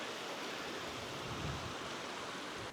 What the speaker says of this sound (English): Lovely little river.